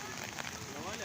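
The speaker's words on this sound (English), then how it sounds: "It's raining, it's raining." Rain falls steadily on a street where people carry umbrellas, a constant hiss of drops spread evenly through the short stretch with faint voices underneath.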